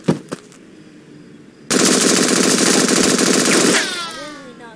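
Rifle in the Henry Stickman video game fires a rapid automatic burst of loud, closely spaced shots lasting about two seconds, preceded by a couple of isolated clicks and followed by a brief fading ring.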